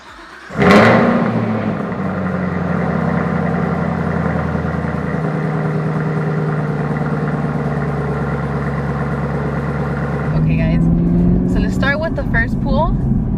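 A sports car engine starts with a sharp burst, then idles in a loud, steady drone with a rough, throbbing rumble for about ten seconds before the tone shifts near the end.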